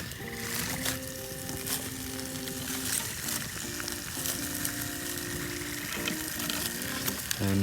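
Foil-wrapped potatoes seasoned with chili powder and salt sizzle steadily in a forest campfire at night, a continuous close crackling hiss with faint background tones.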